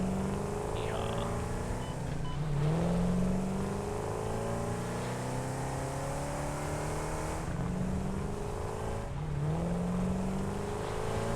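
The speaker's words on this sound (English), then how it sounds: "Even this driving this around sounds fun. Like the engine noises on this." A vehicle engine hums as it is driven around in the video game Satisfactory, a continuous mid-level drone with repeated rising pitch sweeps as it speeds up and shifts.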